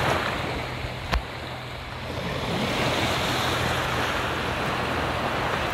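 Caribbean sea waves wash steadily onto the shore in Mexico, a broad continuous roar with wind buffeting the microphone and one brief sharp knock early on.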